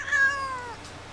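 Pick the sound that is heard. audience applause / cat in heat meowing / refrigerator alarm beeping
cat in heat meowing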